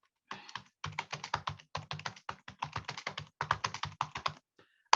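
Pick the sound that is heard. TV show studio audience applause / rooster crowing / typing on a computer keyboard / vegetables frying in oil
typing on a computer keyboard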